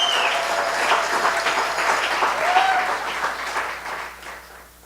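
A congregation claps and cheers for God at a church service, dense sustained applause with scattered shouts filling the whole stretch and tapering slightly toward the end.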